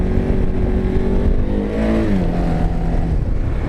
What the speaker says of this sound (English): See if we can get a little wheelie action in.